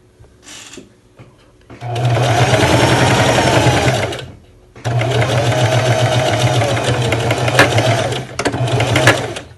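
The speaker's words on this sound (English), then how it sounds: "Don't forget to back stitch." A sewing machine back stitching the seam of a lined zippered bag runs loud and close in two long whirring bursts with a short pause between, plus a few handling clicks before it starts.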